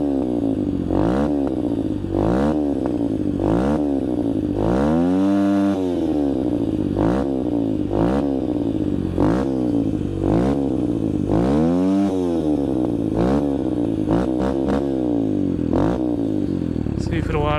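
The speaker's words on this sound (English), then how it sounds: "Oh yeah, this dirt bike idles a little better." A Yamaha TTR 125 dirt bike fitted with an FMF exhaust idles close and loud with a lumpy, pulsing beat, the engine swelling in repeated blips before settling back, with a person speaking over it.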